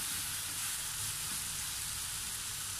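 Pork pieces simmering in a sauce with black pepper and water give off a steady, dense sizzling bubble. It holds level and close for the whole stretch, with no voices.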